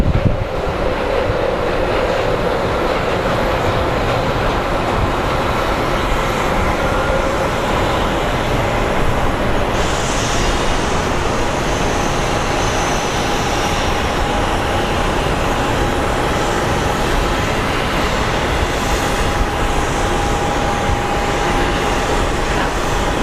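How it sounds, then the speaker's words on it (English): An American Airlines Airbus A319 passing at Phoenix Sky Harbor International Airport, a loud steady jet roar that holds broadly for over twenty seconds with wind buffeting the microphone and a faint whine rising midway. "up next is American Airlines 1474. It's an A319 coming from Monterey"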